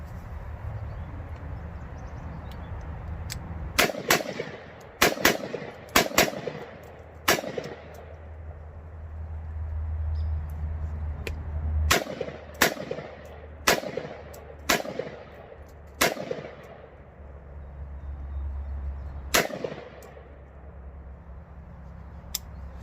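Gunshots from an AR rifle fitted with a Stoner upper, fired outdoors: sharp, loud single reports in irregular clusters, roughly a dozen shots with short pauses and ringing decay, over a steady low background rumble.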